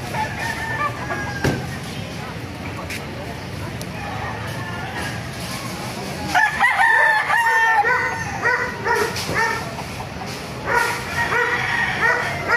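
Chickens and roosters crowing and clucking at a busy poultry market in Baliuag, with a dog barking and people talking in the background; several overlapping crows rise near the middle and end of the stretch.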